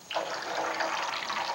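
Steady running water from a video game pours in abruptly and keeps flowing evenly, close and moderately loud, with no speech over it.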